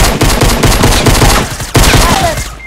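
Rapid gunfire from SMGs in Fortnite, loud and close, firing in dense bursts with a brief gap before another volley, with no talk over it.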